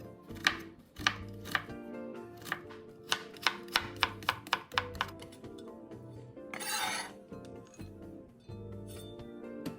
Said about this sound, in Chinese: 先切片，再切成丝。